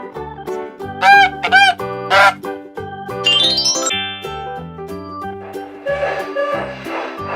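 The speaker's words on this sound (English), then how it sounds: "Goose." A farm goose gives a few short honks in quick succession near the start, set over a bouncy, chiming children's music backing that continues throughout.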